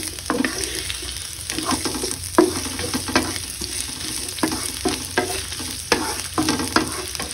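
Garlic and onion sauté in about two tablespoons of hot oil in a pan, with a loud, close sizzle broken by repeated scraping stirs of a spatula at a regular rhythm.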